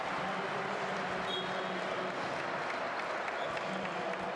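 A home crowd at a Georgia versus Netherlands international basketball qualifier roars and applauds in a dense, continuous wash of cheering filling the arena, with faint commentary underneath.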